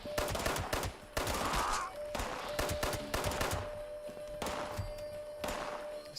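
Gunfire in Fallout 76, rapid bursts of shots and thuds coming in repeated volleys with short gaps, loud and close, over a steady tone with game noise.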